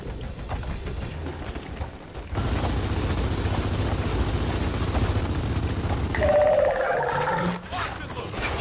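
Gunfire aimed at a creature's tail in Gears of War 4, with steady sustained shooting blended into a loud roaring creature and constant game noise.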